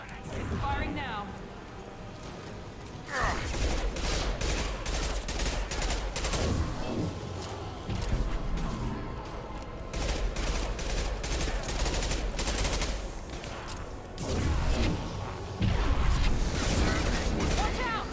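Dense, loud gunfire from Mass Effect 2 played on Hardcore, with rapid automatic bursts and mechanical clatter running almost continuously, plus voices talking intermittently over the shooting.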